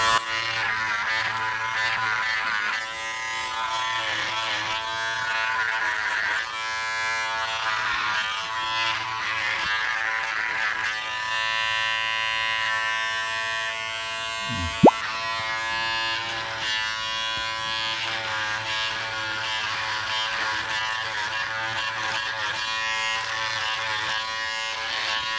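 A Remington F4 electric shaver shaves a neck, its close, steady motor buzz humming continuously and shifting in pitch as it moves over stubble, with one brief knock partway through.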